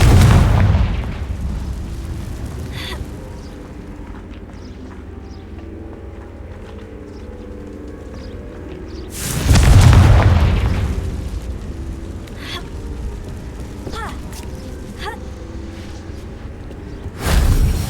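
Confringo fire spell explosions from the Hogwarts Legacy video game burst out three times: a loud boom at the start, a bigger one midway and another at the very end, with quieter game ambience and small effects between them.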